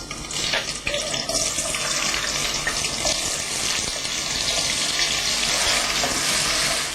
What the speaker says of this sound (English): my oil must be hot by now, so I'm going to tip in my potatoes and onions